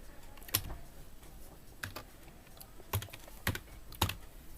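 Keys clack on a computer keyboard while typing into an Excel sheet, a handful of sharp, sparse clicks spaced irregularly in a quiet room.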